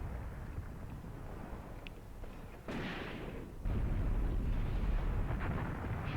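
Light infantry gun firing in the Graviteam Tactics war game, a muffled distant boom followed by rumbling, wind-like noise that swells louder toward the end.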